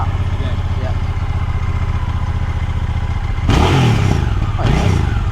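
A motorcycle engine idles with a steady low rumble, then is clutch-started and revved twice in loud bursts close by, with voices talking around it.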